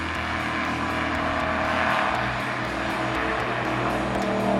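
NASCAR stock cars lapping an oval at around 160 to 170 mph, a continuous roar of engines with a rising, shifting pitch as cars pass, heard from a distance with wind noise and no talk.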